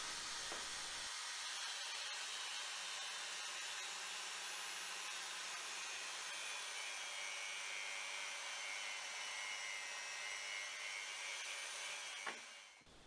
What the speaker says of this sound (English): I'm just finishing off with the finger sander. Just on those inside curves there.